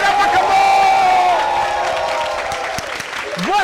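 A studio audience on a talk show gives a loud round of applause for a guest, with cheering and shouting voices rising over the clapping and a voice calling out near the end.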